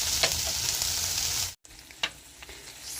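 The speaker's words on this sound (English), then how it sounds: "I'm going to just crack my eggs in the pan and scramble it all up" Sausage, potatoes and freshly cracked eggs sizzle and fry in a pan, a steady crackling hiss broken by a brief gap and a few stirring clicks, close and with no voice over it.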